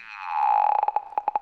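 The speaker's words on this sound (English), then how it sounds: "how to make psychedelic glitch effects in Ableton's own VST operator" A synthesized tone from Ableton's Operator synth, with a steady pitch and bright harmonics, breaks into a rapid stuttering pulse that speeds up and chops into choppy, glitchy psychedelic bursts.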